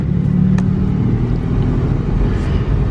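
An old car with a four-speed automatic transmission drives along in D4, a continuous loud low road rumble and engine drone heard from inside the cabin, with no talking.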